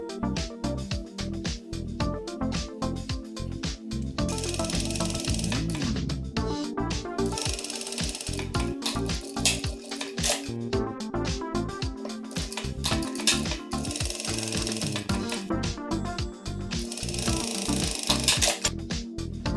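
A sewing machine stitches around the edge of a folded fur fabric bag pocket, running in a steady mechanical rhythm with brief pauses, close and fairly loud, with no one speaking.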